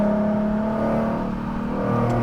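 Hybrid car fitted with a Nissan 350Z engine, revving loud and close in a steady, sustained drone that wavers slightly in pitch and swells near the end.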